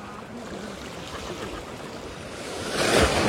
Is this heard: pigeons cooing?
no